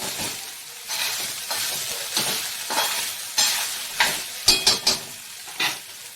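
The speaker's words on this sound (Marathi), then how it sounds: "थोडासा मऊ झाला कांदा कि लगेच सोया टाकायचा जो आपण पिळून घेतलेला सोया आहे ना तो टाकला" Softened onion and squeezed soya chunks fry in hot oil, a quiet steady sizzle broken by repeated stirring scrapes and a few sharp clinks of a spoon against the pan.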